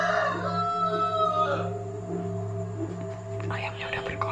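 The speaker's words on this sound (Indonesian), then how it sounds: "Ayamnya udah berkokok, guys." A rooster crows in a rising, drawn-out call over a steady electronic hum and tonal background, with a second fainter crow toward the end.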